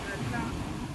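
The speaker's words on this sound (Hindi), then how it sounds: "कितनी बड़ी बड़ी लहरें यहाँ पे आती हुई।" Big ocean waves surge and wash at a backwaters beach near Trivandrum, a dense, steady roar of surf mixed with wind buffeting the microphone, close and loud for about a second.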